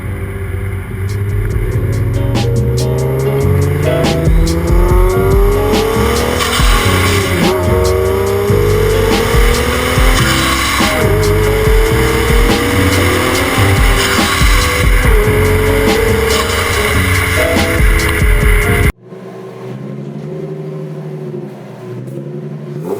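Nissan 370Z accelerating hard with tires squealing, loud engine revs rising and falling in repeated pulls close to the car, ending abruptly into a quieter steady rumble near the end.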